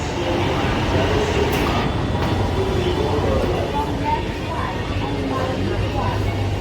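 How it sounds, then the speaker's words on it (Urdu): A crowded passenger train rumbles past near GPO Chowk in Lahore, a steady loud roar with faint clatter throughout, mixed with street noise and a voice. "بھری ہوئی ہے ٹرین بالکل"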